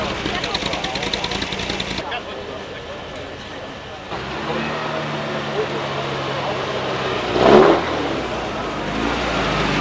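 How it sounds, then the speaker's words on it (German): Cars pass by with engine noise rising and fading, a louder whoosh near the end, over a steady traffic rumble and some background voices. "Noch ein paar Autos."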